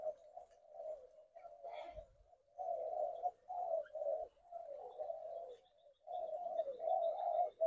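A captive hybrid red-whiskered bulbul kept for breeding gives a string of soft, close warbling calls in short phrases with brief pauses, alone and fairly quiet.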